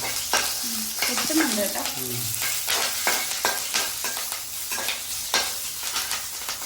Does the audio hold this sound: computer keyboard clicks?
no